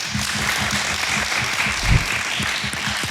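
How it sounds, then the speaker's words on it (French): A crowd at a freestyle rap battle show applauds and cheers for a freestyler, a dense, steady wash of clapping close by, without talk. "un maximum de bruit pour Cholo Sensei, s'il vous plaît"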